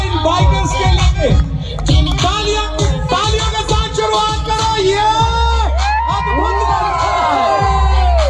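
Large outdoor stadium crowd at a Raipur supercross bike race cheering and shouting continuously, with whoops and yells from near and far, a loud sustained roar throughout.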